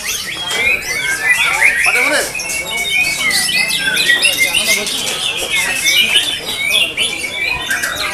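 Several white-rumped shamas (murai batu) sing continuously at a songbird contest, loud and busy with overlapping whistles and chattering calls, while an announcer speaks over a public address system throughout.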